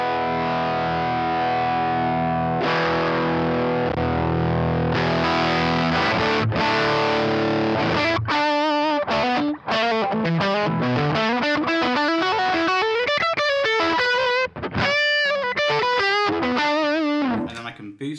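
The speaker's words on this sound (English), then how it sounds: "I'm going to play a bit of a fuzz sound here. So this is coming from a TWS Super Throttle" Distorted electric guitar fuzz from a TWS Super Throttle run through a Boss MS3, first sustained chords and then a busy run of quick single-note lines, loud and close with no talking.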